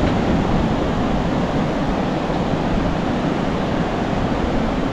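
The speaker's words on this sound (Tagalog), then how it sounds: "Isang alon." Ocean waves at high tide on a littered shore in Tanza, Cavite, during monsoon winds: a steady, loud, close roar of surf and wind with no distinct breaks or individual crashes.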